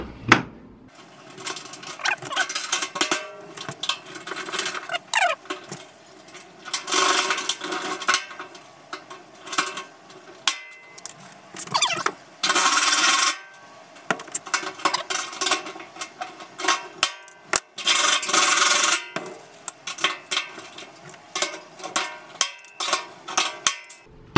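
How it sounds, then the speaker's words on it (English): A hand rivet gun pops rivets into a barrel hinge in a workshop, with repeated sharp metallic clacks and squeezes coming in irregular close bursts, with handling clatter in between. "find your rivet gun, which you're extremely proud about because you've never owned one before and you had to have one. Pop your rivets in the hole"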